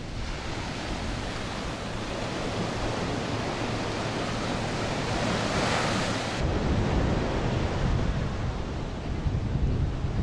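Caribbean Sea waves breaking on an open sandy beach in Cancún, Mexico, a loud continuous rush of surf mixed with wind buffeting the microphone.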